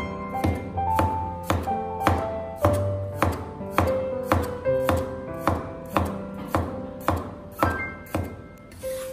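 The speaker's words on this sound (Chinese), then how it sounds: "接下来再将苦瓜切成薄片，尽量将它切薄一点" A knife slicing bitter melon into thin slices on a cutting board, with steady evenly spaced chops at about one every half second, close and clear, no voices.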